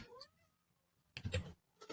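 A house cat meows once softly, then after a pause a louder, brief burst of noise follows, heard near and alone.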